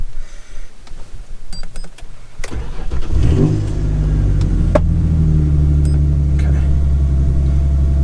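A Ford Sport Trac engine, just fitted with an electric radiator fan, cranks after a few clicks and catches around the midpoint, then settles into a loud steady idle; a voice speaks briefly.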